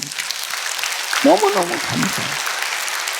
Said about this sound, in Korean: 우리 고등부 학생들 위해서 박수 한번 해주세요.